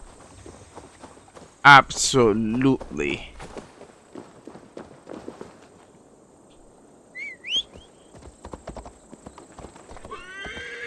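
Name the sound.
horse hooves clip-clopping while riding in video game Assassin's Creed Valhalla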